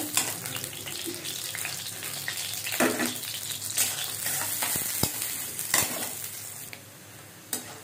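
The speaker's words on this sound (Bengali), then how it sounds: "পেঁয়াজটা একটু ভেজে নিয়েছি।" Chopped onion sizzles and crackles in a hot pan, with occasional stirring scrapes and clinks of a utensil against the metal.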